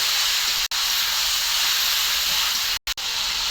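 Half a kilo of meat sizzles in a hot pan with ginger and garlic, a loud, close, steady hiss that cuts out briefly a couple of times, with no talk.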